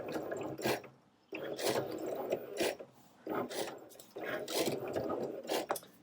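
Cricut machine cutting vinyl, with repeated bursts of whirring carriage movement and ratcheting mechanical clicks separated by brief quieter pauses, close and steady with no talk.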